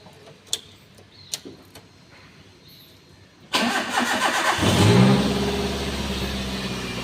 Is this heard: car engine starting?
yes